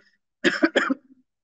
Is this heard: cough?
yes